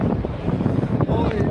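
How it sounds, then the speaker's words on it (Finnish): Wind blows at an outdoor drift race track paddock, a steady rough buffeting rumble across the microphone for a brief moment. "täällä tuulee sen verran"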